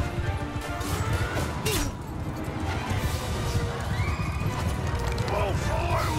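Horses in Mount and Blade II Bannerlord galloping through a dense, loud battle din, with neighs and crashes of combat mixed into a constant roar of hooves.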